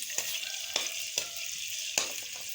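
Ginger and garlic frying in hot oil in a pan, a steady crackling sizzle with a few sharp spatters and utensil clicks, close and moderately quiet.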